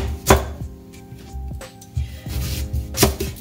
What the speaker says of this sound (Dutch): allereerst ga ik de zoete aardappel in grove stukken snijden